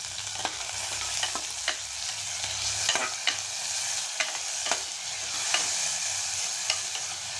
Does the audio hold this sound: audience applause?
no